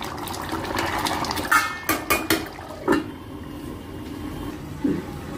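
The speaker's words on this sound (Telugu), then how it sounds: "మూత పెట్టేస్తున్నాను" A lid is set on a cooking pot of spicy Andhra egg pulusu, giving a few short metallic clinks and knocks over faint background kitchen noise, with no talking.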